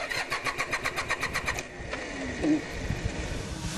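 A car engine cranks over several times with a rhythmic starter churn, then catches and runs at a steady mid-pitched idle with a brief rise in revs, close and fairly loud.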